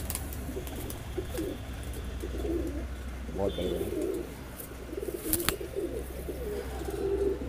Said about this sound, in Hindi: ये हमारी टुकड़ी का मेन कबूतर है जी, जो पूरी टुकड़ी लेके चलता है